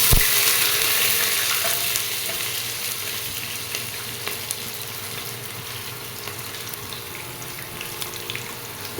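Chopped onions frying in a pan for a mixed-vegetable pulao, giving a loud, close, continuous sizzle and crackle that holds steady throughout with no voices.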